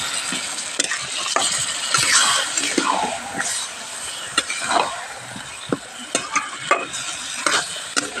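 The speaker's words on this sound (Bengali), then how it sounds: "মাংসটা কষাচ্ছি" Marinated country rooster meat frying in oil while being stirred, with a loud, steady sizzle and repeated scraping and clinking strokes of a spatula in the pan, up close.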